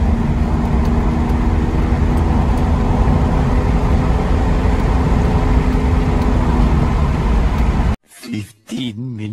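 A car's engine runs steadily as it pulls away and accelerates, with a constant loud road and motor rumble that cuts off abruptly near the end, followed by a few brief separate sounds.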